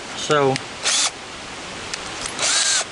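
Power drill boring a pilot hole for a lag bolt, using a bit smaller than the bolt's threads: short, loud bursts of drilling in quick succession, with a voice briefly heard between them.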